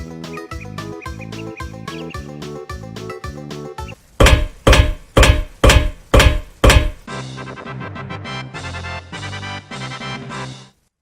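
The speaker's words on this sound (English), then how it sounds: "Are you watching somebody hammer something into a wall?" Video game hammering sound effect in a horror game, a run of five or six loud, evenly spaced heavy thuds like a hammer striking into a wall, set between stretches of game music.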